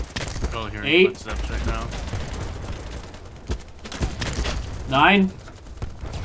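Rapid AK rifle fire in Battlebit Remastered, scattered bursts of gunshots spread through the clip under a player's talking.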